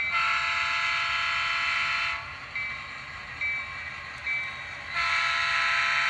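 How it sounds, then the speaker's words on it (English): A horn sounds from the sound decoder of an HO-scale Athearn Genesis Union Pacific GP38-2 model locomotive with Tsunami 2 sound, in a grade-crossing pattern of long and short blasts over a steady diesel engine hum. "Might as well do a little horn sound."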